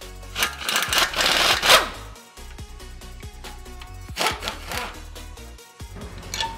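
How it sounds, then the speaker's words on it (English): A nut and bolt are worked off an engine's oil pan pickup tube, giving close metallic ratcheting and scraping in uneven bursts over a low background drone. "we're going to get this one out of the way by taking off this nut and this bolt right here"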